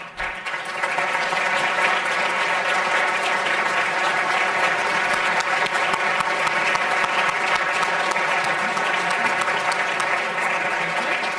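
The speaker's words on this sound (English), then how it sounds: "You're welcome to applaud at this point." A debate audience at a 2022 U.S. Senate Republican primary in North Carolina applauds steadily as the candidates walk out, a dense, sustained wash of clapping that holds at full strength for over ten seconds with no talk over it.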